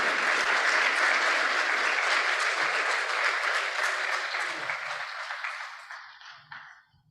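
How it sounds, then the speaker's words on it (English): An audience applauds after a talk at an event on advancing Africa, a dense, loud clapping that holds steady and then tapers off to silence over the last couple of seconds. "Thank you for the round of applause"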